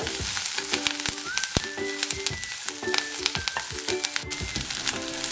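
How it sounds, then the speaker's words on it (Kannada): Curry leaves roasting in a pan for curry-leaf chutney, a steady close sizzle with frequent scraping stir strokes and clinks of a spatula against the pan. "ನೋಡಿ, ಕರಿಬೇವನ್ನ ಇಷ್ಟು ಚೆನ್ನಾಗಿ ಹುರ್ಕೊಂಡಿದ್ದೀವಿ"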